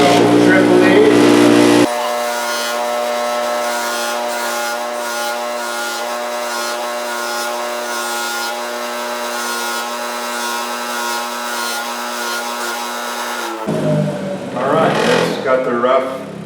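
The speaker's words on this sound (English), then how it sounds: "Okay, we're ready to buff. This is the buffing wheel. Turn it on." A motorized buffing wheel spins up and runs in a steady high whine while a silver fingerpick is pre-polished against it, with louder rubbing and grinding bursts at the start and end.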